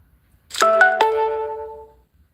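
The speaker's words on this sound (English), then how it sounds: "Oh, that alarm is a half an hour too early." Phone alarm going off with a short electronic melodic chime: a few quick rising tones that ring out and fade over about a second and a half, clear and near in a quiet room.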